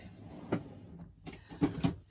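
A drawer is pulled open indoors with a short wooden slide and clunk, followed by a couple of sharper knocks and rattles as it moves, close and fairly quiet, with no talking.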